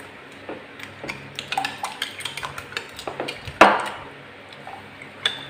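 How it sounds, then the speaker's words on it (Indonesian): A utensil scrapes and taps against a pot while a dragon fruit and sweetened condensed milk jelly mixture is stirred, producing a rhythmic series of close clinks with one louder knock partway through. "Terus kita aduk lagi."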